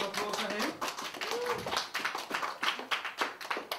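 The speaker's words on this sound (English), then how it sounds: "Everyone, round of applause." Audience applause at a small pop gig, a patter of hand claps that builds into uneven tapping over a few seconds, heard under a talking voice on the microphone.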